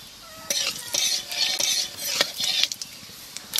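Black cumin seeds go into a hot pan for a river fish curry with drumsticks, giving clinking metal-on-pan strikes and stirring scrapes with a light sizzle, close and irregular, without talk.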